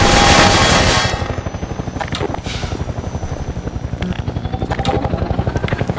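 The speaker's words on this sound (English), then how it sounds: "Watch out for the helicopter." An attack helicopter in the video game Half-Life 2, loud and close, its rotor beating in a rapid steady chop after a burst of louder noise at the start. No one speaks.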